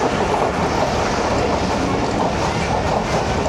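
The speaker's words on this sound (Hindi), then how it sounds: "ये रहमान बाबा एक्सप्रेस ये रन थ्रू करती है इधर से" Rahman Baba Express passenger train running through Sukheki station without stopping, a steady loud rumble of wheels and carriages with continuous clickety-clack throughout.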